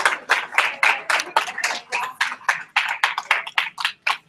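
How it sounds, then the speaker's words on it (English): An audience claps for the coaches at an indoor gathering, giving a short burst of close, rhythmic applause that stays brisk and fairly light. "can we have a round of applause for the coaches?"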